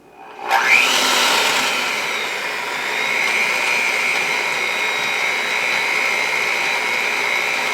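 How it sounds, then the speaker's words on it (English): An electric hand mixer runs steadily after a rising start, beating sugar into butter for chocolate cake frosting, with a loud continuous whir and no talk. "I'll grab my hand mixer again, and I'm going to start slowly incorporating this."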